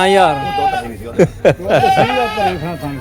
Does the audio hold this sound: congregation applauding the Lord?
no